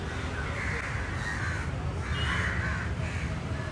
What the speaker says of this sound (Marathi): तर कावळ्यांचा सुद्धा आवाज इथे येतोय, वरती येते.